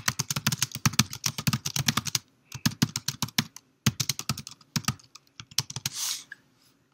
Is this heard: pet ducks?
no